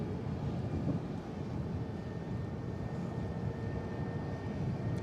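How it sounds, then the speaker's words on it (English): Airbus neo jet engines on an EasyJet airliner landing in stormy, windy weather at Manchester Airport, a steady broad roar with buffeting wind noise on the microphone throughout. "Those Neo engines."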